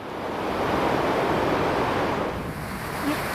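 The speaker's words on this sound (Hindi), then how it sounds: "पानी का शोर बहुत ज़्यादा था।" Loud, cold glacial river water rushing beneath a bridge in the Karakoram Range of Pakistan, a dense continuous roar with no pauses, heard alone and close.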